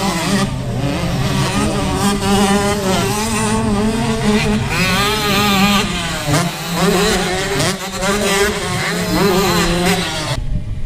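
Motocross motorcycles, including a Yamaha, race in a 125 class event at Bougneau, their engines snarling and revving in loud overlapping waves as several bikes pass close together, with a commentator's voice faintly underneath.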